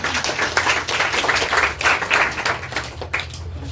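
Audience applause at a class 10 success celebration and topper award ceremony, steady loud clapping from a crowd held throughout, no voice.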